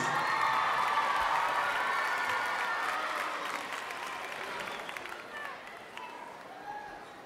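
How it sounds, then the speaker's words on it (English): Audience applause greeting the intermediate women's division grand champion choir at a school district choral festival, a dense steady wash of clapping with some cheering that slowly thins toward the end. "Let's give Exquisite a round of applause."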